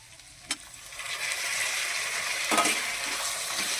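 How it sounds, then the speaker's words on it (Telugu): Garlic and tomato fry in a pan for hotel-style paneer butter masala, giving a steady close sizzle broken by a couple of sharp utensil clinks as the mixture is stirred. "ఎల్లిపాయలు వేసి కొంచెం కలుపుకోవాలి. కలుపుకున్నాక టమాటా వేస్తున్నా."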